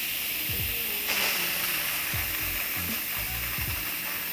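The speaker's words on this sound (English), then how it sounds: "you just move the valve from seal to venting. It's gonna let a little bit of steam out, make a little noise." A pressure cooker filled with chili has its valve switched from seal to venting, releasing a steady, loud hiss of steam alongside low bubbling and a few soft knocks.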